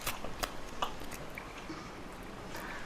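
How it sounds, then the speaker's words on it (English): Someone gnaws on a severed arm, close and faint: wet, squishy bites and crunchy tearing clicks repeat irregularly, with no voices. "Not only because you're chewing on an arm"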